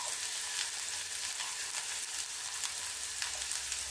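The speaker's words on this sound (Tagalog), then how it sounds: "Igis na natin sa bawang at luya. Then ilagay natin ang sibuyas, onion." Garlic, ginger and onion sauté in a hot pan, giving a steady, close hiss of frying with crackling pops throughout and no talking.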